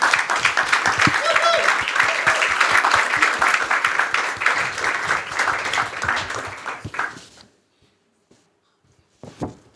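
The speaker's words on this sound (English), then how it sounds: "a big applause" Loud, sustained applause from a large crowd, dense clapping that fades out, then a brief burst of clapping near the end.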